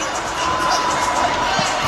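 Stadium crowd at an NFL game between the Indianapolis Colts and Los Angeles Chargers, a broad roaring cheer and murmur of many voices, steady and distant-sounding.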